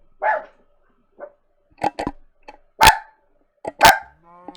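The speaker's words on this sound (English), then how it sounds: "Apologies for the dog barking in the background." A dog barks in the background of a room, giving a string of short, sharp barks, some single and some doubled, with quiet pauses between them.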